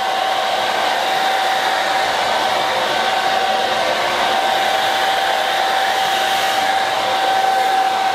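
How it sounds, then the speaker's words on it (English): A blow dryer runs steadily on a low setting while a beard is brushed out, a constant airy whir with a thin high whine, uninterrupted for several seconds. "I'm gonna cheat a little bit and use a blow dryer on low."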